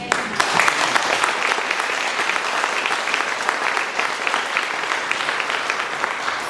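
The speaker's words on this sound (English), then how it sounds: "I'm going to applaud all of you for the work that you do every day in that" An audience claps steadily in a thick, even burst of applause, loud and unbroken from start to finish.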